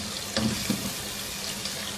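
A spice paste of red chili powder and salt cooks in oil, making a dense, even hiss with a couple of faint ticks and no talking.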